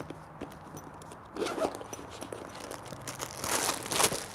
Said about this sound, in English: It only has these zippers right here, whereas those have like all these unnecessary pockets, so they like jingle a whole lot.